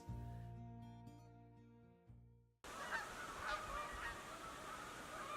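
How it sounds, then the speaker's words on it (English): A flock of geese honks outdoors, a dense overlapping chorus of calls rising against ambient noise in the second half, following a stretch of sustained tonal music that cuts off abruptly. "That's a lot of geese."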